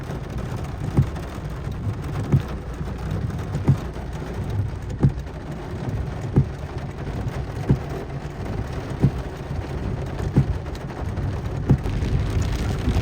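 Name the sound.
heavy rain and thunder in Makkah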